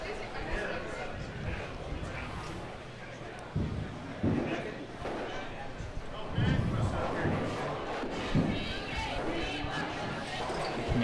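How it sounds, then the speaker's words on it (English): Crowd noise at a charity bowling event cheers a player taking a shot at her 10 pin, a busy hall murmur with several louder swells of voices and clatter, under continuous chatter and nearby talk. "Looks like they're cheering for her."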